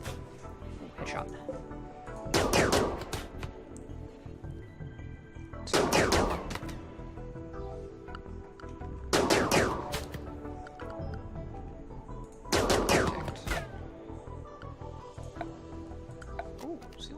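Soldiers fire weapons in the colony-building video game Rimworld, four separate bursts of rapid gunfire spaced a few seconds apart over quieter game ambience, loud and close.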